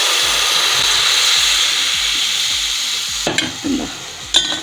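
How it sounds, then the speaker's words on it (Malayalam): Dissolved kudampuli tamarind water poured into a pan of dry shark curry sets off a loud, continuous sizzle with rhythmic scraping, followed by sharp bursts and spatters near the end. "കുടംപുളി ഉരുക്കി വെച്ചിരിക്കുന്നത് അങ്ങോട്ട് ഒഴിച്ചു കൊടുക്കാം"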